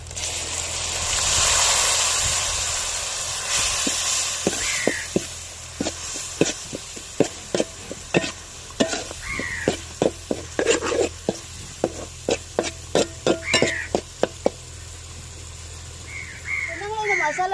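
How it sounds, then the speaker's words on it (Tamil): A spoon stirring curry masala in a pan after a little water goes in, for a dried-fish kuzhambu, giving a run of sharp scraping and clinking strokes over a soft sizzle, with faint bird calls in the background. "லைட்டாக தண்ணி ஊற்றி கிண்டி விட்டுக்கிறோங்க"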